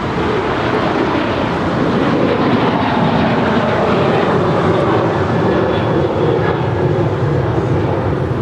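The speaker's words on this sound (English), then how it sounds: "Rudy also has a Delta Airlines 757-200 coming in from Minneapolis" A Delta Airlines Boeing 757-200 jet arriving at Los Angeles International Airport, its broad engine roar steady and loud throughout with no talk over it.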